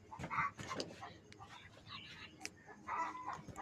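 A dog barks and yelps outdoors near a hut, several short bursts at moderate distance, mixed with rooster-like crowing and clucking in the background.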